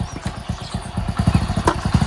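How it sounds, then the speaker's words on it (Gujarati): A motorcycle engine idles close by, a steady rapid chugging pulse that grows slightly louder toward the end. "બાઈક તો આવ્યું છે આવ્યું બાઈક અહીં આવ્યું ભાઈ"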